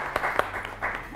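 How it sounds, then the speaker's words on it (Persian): Game-show studio audience applause, a short burst of scattered clapping rising and falling over about a second, fairly close and moderately loud. "تشویق تشویق تشویق"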